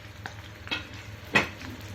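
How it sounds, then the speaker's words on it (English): Garlic cloves fry in a pan with a soft, close sizzle, a few stirring scrapes and clicks rising above the steady crackle. "we are frying the garlic cloves as well."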